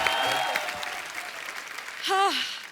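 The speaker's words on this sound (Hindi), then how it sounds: "आप सबकी जोरदार तालियों के बीच प्लीज वेलकम" A television comedy show's studio audience applauds as a guest singer is welcomed, with a steady wash of clapping under some talk, and a short voiced exclamation near the end.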